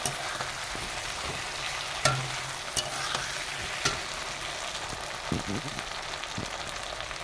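Steady sizzle of ginger garlic paste frying in a pan, with a spoon scraping and knocking against the metal at irregular moments throughout.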